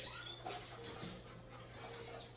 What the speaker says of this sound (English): my 2-year-old puppies are wrestling